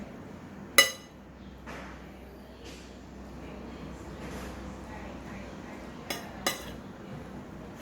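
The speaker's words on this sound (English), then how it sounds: "Mix evenly." Pomelo salad tossed in a bowl, with a few sharp, isolated clinks of a utensil against the bowl over a soft, quiet rustle of mixing.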